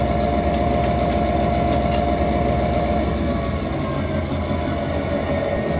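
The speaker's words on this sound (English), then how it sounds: "while I'm notching this, since I do not have it in forward, I still have an idle, I can notch the engine" A DCC sound decoder in a model locomotive idles with a loud, steady diesel rumble and low hum that holds continuously while the engine notches, with no voices.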